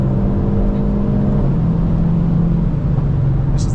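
A Hyundai i30 N engine pulls hard uphill on the Nurburgring after a downshift to third, a loud in-cabin rumbling drone with rising pitch as the car accelerates.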